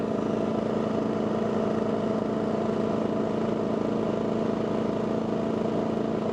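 Two dual fuel generators, a Champion 4000 and a Wen 3600, idle at low RPM in eco mode with no load, giving a steady, even engine drone with a constant low hum that runs unbroken throughout.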